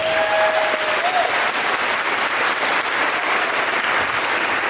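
Dense, steady applause fills the hall after the first age group's dances at a school dance competition, loud and continuous from start to finish, with faint tonal sounds at the beginning.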